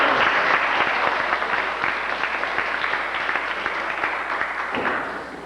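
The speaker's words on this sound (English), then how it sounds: "Let's give them a beautiful round of applause." A room full of people claps steadily for teachers at a school or community gathering, a broad continuous wash of applause that fades a little toward the end.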